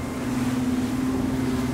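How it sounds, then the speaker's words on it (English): An Axopar 24 T-top motorboat running at speed through ocean waves, a steady engine drone with rushing water and wind noise, close and loud, no talk. "Here's some waves. I'm not gonna slow down. I'm just gonna go straight through them."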